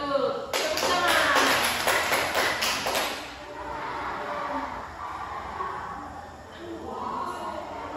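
A classroom of students claps their hands together in a quick, rhythmic burst lasting about three seconds. It ends abruptly, leaving quieter room noise and faint voices.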